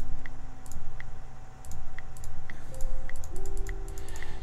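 Rapid, crisp mouse clicks land in a steady rhythm during play of a computer game, close and distinct, over a droning game tone with no talking.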